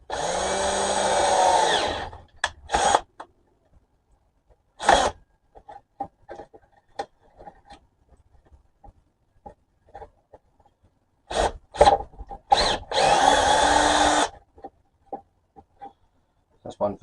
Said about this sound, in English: I'll just drill a hole for the 2 cords to go into.